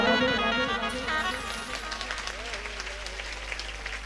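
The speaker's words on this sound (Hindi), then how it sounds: "आप ताली बजा दो।" An audience at a devotional Braj music gathering claps along as a song ends, with singing and instruments fading while many hands clap in a quick, lively patter.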